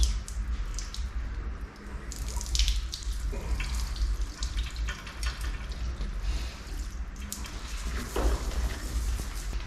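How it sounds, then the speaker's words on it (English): Water draining and splashing from a junkyard 5.3 LS engine block being prepped for a swap, a steady close gurgling pour with wet squishy spatters throughout. "That's how you get all the water out of it."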